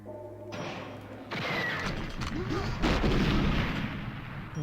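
A big rocket launcher blast from GoldenEye 007 in a bunker level, booming explosions with crashing debris rolling on for several seconds, loud and with no talk over it.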